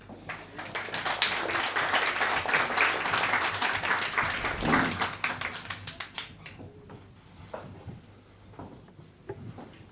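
A lecture audience applauds for the doctor speaking on vaccines and medical ethics, with dense clapping that swells, then thins into scattered claps and fades to a few taps.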